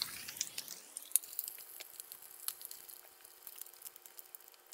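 Shrimp with tails removed, frying in hot oil in a skillet, a steady soft sizzle with scattered crackling pops, close and fairly quiet, with no voices.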